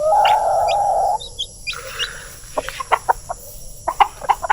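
A native chicken gives a long drawn-out call, then a series of short clucks and chirpy bird notes follow in an irregular rhythm, fairly close by, on a small farm.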